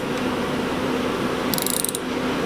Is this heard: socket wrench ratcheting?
yes